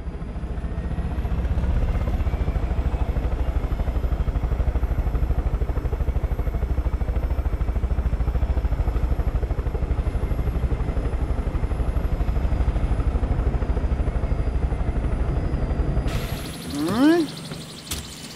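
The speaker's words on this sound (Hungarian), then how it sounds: "Ott a másik helikopter." Helicopter in the video game Far Cry 5 droning steadily with a loud, continuous rotor and engine roar, then cutting off near the end, followed by a few brief clattering sounds.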